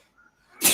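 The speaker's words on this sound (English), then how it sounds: "I can hear him sneezing" A man sneezes once, a sudden loud burst that erupts out of near silence and is cut off abruptly.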